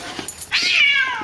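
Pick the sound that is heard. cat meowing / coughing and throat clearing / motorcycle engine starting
cat meowing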